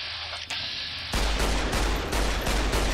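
Loud, close bursts of gunfire from Fallout New Vegas: a single shot, then rapid repeated shots over a heavy, continuous combat din, with no talking.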